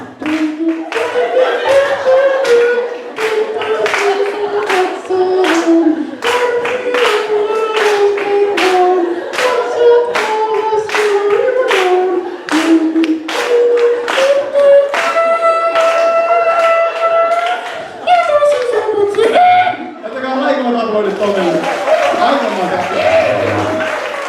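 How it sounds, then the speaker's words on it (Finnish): Audience clapping at a Finnish Christmas party, rhythmic claps in time under loud singing and music, with cheering and voices throughout. "luulet sä, että yleisö taputtaa meille tässä näin"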